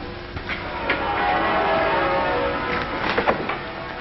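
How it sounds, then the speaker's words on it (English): Church bells ring out, muffled and distant beneath a dense wash of noise, with several peals overlapping. "Listen to our wedding bells."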